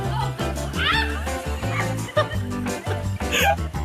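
A dog acting as a furry lifeguard for a person in distress whimpers and yips in high, wavering cries, close and loud, over a busy background with voices.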